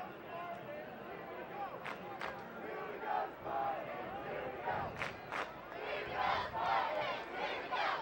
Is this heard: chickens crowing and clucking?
no